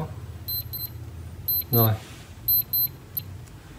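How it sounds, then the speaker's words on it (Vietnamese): A cheap waterproof, shockproof digital sport wristwatch sounds its small, quiet alarm as several short high-pitched double beeps in bursts close by, with a brief spoken word in between. "Chung là chuông nó cũng khá nhỏ thôi, nó không thể bằng các cái đồng hồ để bàn báo thức được."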